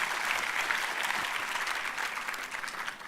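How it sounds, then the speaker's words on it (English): Audience at a university annual lecture series bursts into dense, steady applause, many hands clapping loudly and evenly for the full stretch with no voices over it. "I request the audience to clap for Mr."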